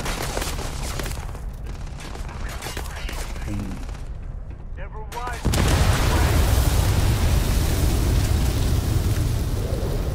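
In the video game Starfield, sniper rifle gunfire and combat sounds pop over a dense, steady background that turns into a louder, continuous roar partway through.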